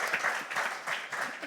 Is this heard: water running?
no